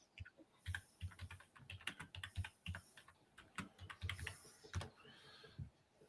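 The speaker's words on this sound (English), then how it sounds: "typing away" Computer keyboard typing in a room, a steady run of quick light key clicks with irregular rhythm, close and clear with no talking.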